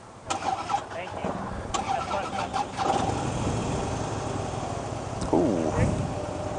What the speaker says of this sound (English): this is a Harley Davidson Street Bob that I'm going to be taking out